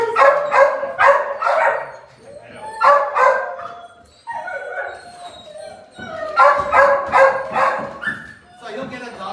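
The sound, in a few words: dogs barking at an animal shelter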